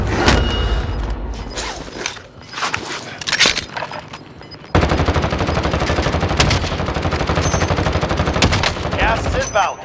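Dense automatic gunfire in a Call of Duty: Modern Warfare battle royale match, with sharp repeated bursts that thicken into a sustained loud barrage in the second half, alongside faint in-game voice chatter.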